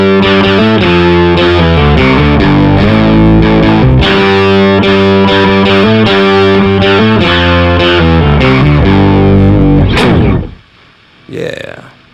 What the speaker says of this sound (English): I prefer the intelligent pitch shift, and then I prefer to be an octave down. It just gives it a gritty sound